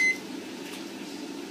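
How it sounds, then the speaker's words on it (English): A microwave oven holding a crisp packet gives a short high beep at the start, then runs with a steady low hum and fan whir, close and unbroken. "today we are going to be, microwaving a crisp packet"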